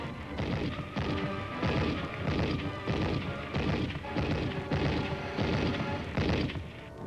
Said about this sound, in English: A recoilless rifle is brought into action against the stubborn resistance.